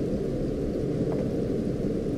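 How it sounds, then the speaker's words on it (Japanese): Rain falls outside in the Half-Life 2 mod Underhell, a steady dense hiss of downpour that holds evenly throughout with no other sounds standing out. "あ、外雨降ってんのか。"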